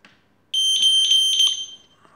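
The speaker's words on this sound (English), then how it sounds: "I will trigger the alarm." A smart smoke detector built around an ESP8266 sounds its alarm, a loud, piercing high-pitched tone that pulses for over a second nearby and then stops abruptly.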